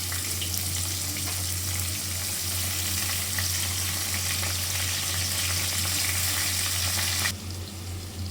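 Chopped onions and green chillies sizzle and fry steadily in a hot pan for a chicken curry, a loud continuous crackle with a low hum beneath, easing slightly at the end.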